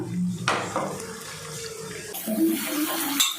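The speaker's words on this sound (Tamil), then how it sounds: "தக்காளி பேஸ்ட் கூட மிக்சி ஜாரை கழுகி அதில் உள்ள தண்ணியை சேர்த்துக்கலாம்" Water splashes and pours for a few seconds from a rinsed mixer jar into a pan of tomato paste, a steady running rush with a few clinks, close by and moderately loud.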